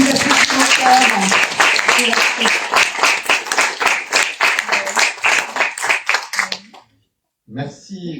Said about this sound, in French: Merci beaucoup, bravo, on peut vous applaudir encore.